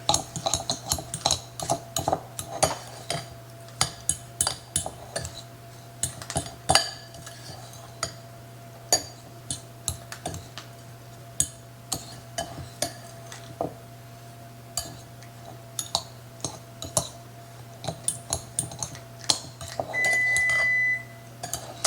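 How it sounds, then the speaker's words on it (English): Graham cracker crumbs being mixed with melted butter and granulated sugar in a bowl, with repeated clinking and scraping of a utensil against the bowl, irregular taps under a steady room hum, no talking. "So we're just going to mix this until all the graham cracker crumbs are moistened with the butter."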